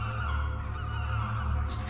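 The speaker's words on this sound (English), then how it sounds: "Many birds circle in the sky overhead." Seabirds circling above a beach in the video game The Last Door: a steady bed of honking, goose-like calls over a continuous low ambient drone, heard alone with no talking.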